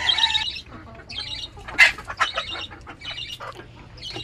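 Chickens on a small farm, kept alongside pigeons, let out several sharp squawks and clucks at close range, with some wing flutter between calls and no talk.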